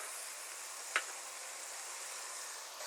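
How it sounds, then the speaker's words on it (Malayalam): Chopped shallots with salt frying in a pan, a faint steady sizzle with one brief scrape of a stir, no talk. "ഇതൊന്ന് നന്നായിട്ട് ഇളക്കി കൊടുക്കണം."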